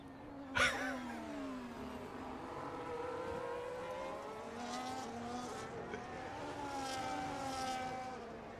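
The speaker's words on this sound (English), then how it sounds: "GP2 engine." A GP2 single-seater race car at the Goodwood Festival of Speed screams past with a high revving engine note rising and falling as it passes, plus a sharp burst near the start and a sustained loud drone afterward.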